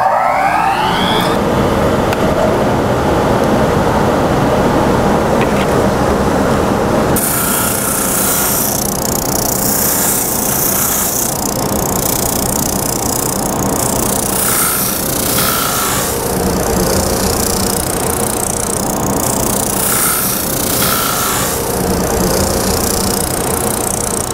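A JET wood planing machine with an adjustable feed belt, hooked to a dust collector, runs loud and near. A roaring motor and a steady rasping cut carry on as boards feed through, with repeated swells as each pass bites.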